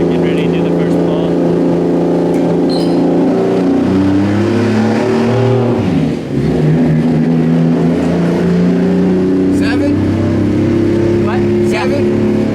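Single-turbo Toyota 2JZ VVT-i engine pulling on a dyno, a loud steady drone whose pitch climbs through the rev range, dips briefly midway, then rises again, with voices faintly underneath.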